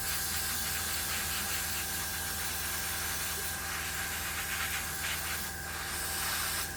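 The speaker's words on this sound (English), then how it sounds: "just spray it around, not being too pedantic" An airbrush sprays paint onto an Airfix 1/72 McDonnell Douglas Phantom FG1 model kit, giving a steady, close, continuous hiss with slight shifts in pressure and no talk.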